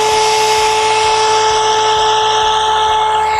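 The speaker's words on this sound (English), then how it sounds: "We're going to start torquing this nut now." A pneumatic torque wrench tightening a nut gives a loud, steady high-pitched air-tool whine with a pulsing low hammering rhythm that runs without a break.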